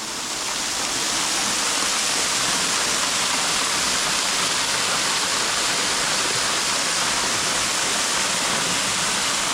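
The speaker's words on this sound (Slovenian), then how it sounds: "Prelep slap na desnem pščaku." A waterfall pours into a pool on the right-hand tributary of a mountain stream in the Soča valley near the Tolminka, a steady, loud broadband roar of rushing water that continues unbroken and close by.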